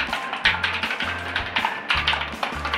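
Rapid typing on a SIGNO KB-738 INFESTA mechanical keyboard with blue switches, a dense stream of loud, clicky keystrokes in uneven bursts, close up and with no talking.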